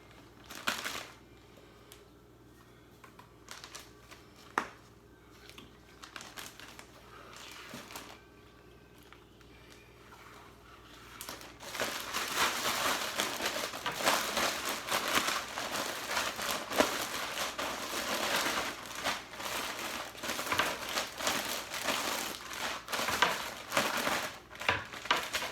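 Brown sugar, ginger and coconut shaken and squeezed together in a plastic bag, soft rustling at first, then dense loud crinkling and crunching for the second half.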